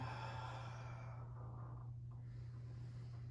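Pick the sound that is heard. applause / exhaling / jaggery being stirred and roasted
exhaling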